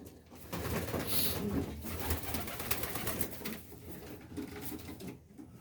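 A racing pigeon coos softly and repeatedly at close range over a steady backdrop of faint loft noise.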